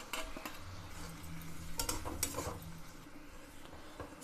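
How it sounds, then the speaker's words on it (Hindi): Potatoes sizzle and spatter as they fry in a pan while a utensil scrapes and stirs them, with occasional clinks, close and fairly quiet. "पहले आलू को हम भूजेंगे"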